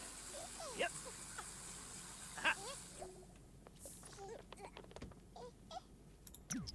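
Chickens in The Sims 4 give a few short, plaintive clucks and squawks amid soft game ambience and faint background sounds, moderately quiet.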